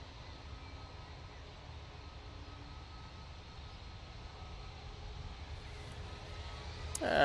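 An EasyJet airliner at Manchester Airport begins its takeoff roll, a faint, distant engine rumble with a thin whine that slowly builds and swells sharply at the very end.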